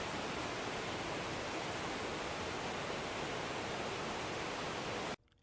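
Whitewater rapids roar in a steady, dense rush of water that holds unbroken for about five seconds before cutting off abruptly.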